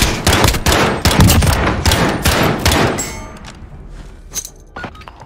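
In the shooter game Modern Warfare, a loud grenade blast comes amid rattling gunfire, a dense burst of noise for a few seconds that fades into scattered distant pops.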